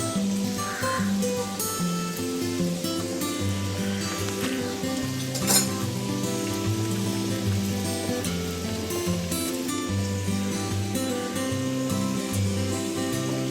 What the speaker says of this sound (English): The oil is hot. I have heated it for 4 to 5 minutes. Now carefully add this in oil from the sides